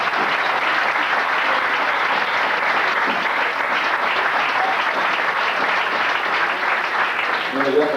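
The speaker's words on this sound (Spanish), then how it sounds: "Un fuerte aplauso para ellos." Sustained audience applause fills the whole stretch, dense and steady clapping from a crowd at a live event, loud and continuous without letup.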